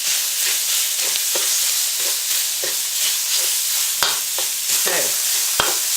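Soy-marinated pork with pepper and garlic sizzles loudly in a hot pan, a steady frying hiss broken by irregular scrapes and knocks as the meat is broken up and stirred.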